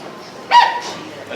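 A person in a fursuit at a furry convention lets out a single short barking yip in imitation of a dog, a close vocal burst rising briefly above soft background noise.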